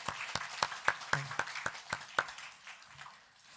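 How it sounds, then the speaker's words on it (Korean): Church congregation at a Christmas Sunday service clapping, a steady run of sharp claps that slows and fades toward the end, with a brief spoken word. "우리 잠깐 하나님께 감사와 영광의 박수 드리기 원합니다"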